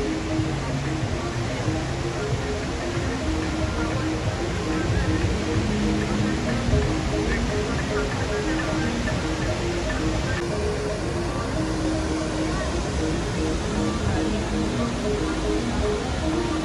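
Tegenungan Waterfall in Ubud, Bali, a steady broadband roar of falling water that holds constant throughout, with faint voices of visitors mixed into the continuous rush.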